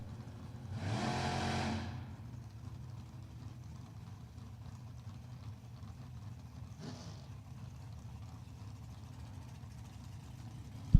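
An 1987 Camaro with an automatic transmission from Greencastle, Pennsylvania, revs in a short loud burst at a drag strip, then drops to a distant low engine rumble with a brief second rise.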